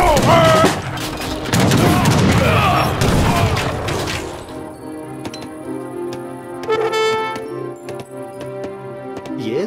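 Bombard cannons firing in an Age of Empires 3 campaign battle: a loud, dense barrage of booming shots in the first few seconds, then scattered, sharper reports and clatter over battle ambience.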